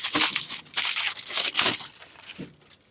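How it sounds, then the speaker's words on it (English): Plastic packaging crinkles and crackles loudly as a boneless beef prime rib roast is unwrapped beside a Masterbuilt Gravity Series grill, in dense close bursts that ease off toward the end. "we're going to unwrap our roast here"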